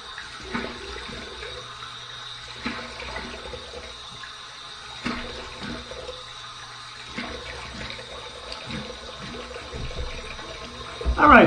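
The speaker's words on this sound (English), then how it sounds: "Here's my warm water rinse." Warm water splashes and trickles in a sink as a face is rinsed, a few light splashes spread out over several seconds, with a soft background hum and a louder burst at the end.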